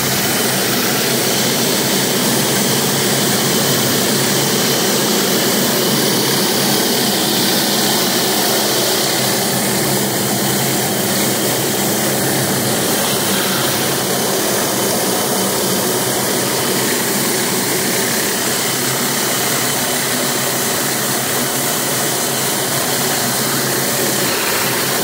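A Honda IGX 800 engine drives a 10 gpm, 3000 psi pressure washer, running loud and constant at close range as a dense, roaring drone with a hissing spray mixed in, and no pauses or talk.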